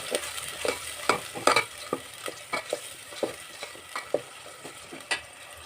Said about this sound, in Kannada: ಆ ಪೇಸ್ಟ್ನ ಈಗ ಹಾಕೊತಾ ಇದ್ದೀನಿ ಸ್ವಲ್ಪ ಹಸಿ ವಾಸನೆ ಎಲ್ಲ ಹೋಗಬೇಕು ಅಲ್ಲಿ ತನಕ ಫ್ರೈ ಮಾಡ್ಕೊಳ್ಳಿ